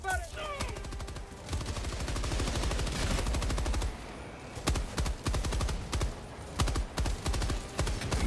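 A big gun firing in a video game: long runs of rapid, loud, rhythmic shots, stopping briefly and then resuming in several bursts, with sporadic talk underneath.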